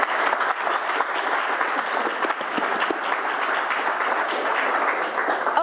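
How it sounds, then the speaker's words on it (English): Audience applause for two guests at a panel talk, a dense, steady round of clapping from a full room that holds loud and even throughout, with no voices over it. "So I ask you an applause for the two guests today."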